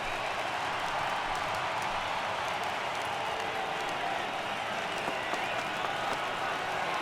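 Steady, broad roar of a baseball stadium crowd in MLB The Show 18, a sustained wash of cheering and clapping that holds evenly throughout at moderate volume with no voices standing out.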